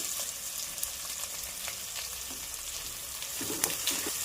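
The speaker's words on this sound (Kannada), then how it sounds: "ಸ್ವಲ್ಪ ಒಂದು 2 ನಿಮಿಷ ಫ್ರೈ ಮಾಡ್ಕೊಳ್ಳೋಣ." Chopped onions and curry leaves frying in oil with mustard seeds for a ladies finger stir-fry, a steady close hiss with scattered crackles and a few stirring scrapes, no voices.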